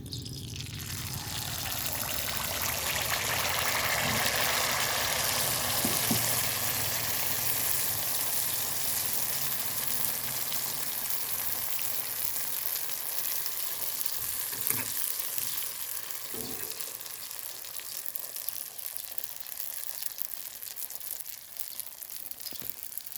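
Khanom fak bua, a Thai flower-shaped snack, frying in hot oil with a steady, close sizzle and bubbling throughout, plus a few faint clinks of utensils.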